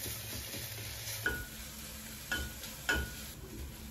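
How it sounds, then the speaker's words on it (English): Pork sizzles steadily in a frying pan as garlic is added, with three distinct scrapes or clatters of stirring breaking through the constant hiss. "Let's put the garlic now."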